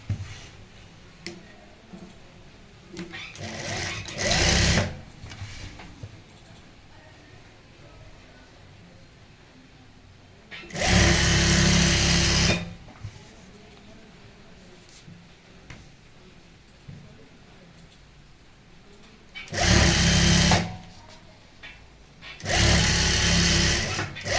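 Stitching a palazzo crotch seam, a sewing machine fires off four loud runs of rapid clatter, separated by long stretches of quieter handling of the fabric nearby.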